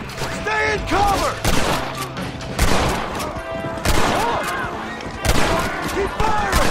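Rapid volleys of gunfire in a Red Dead Redemption shootout, loud and close, with repeated bursts and booming shots layered over shouted combat voices throughout.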